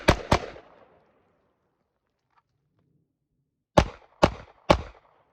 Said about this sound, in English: So all 7 shots on target with the transition at a 723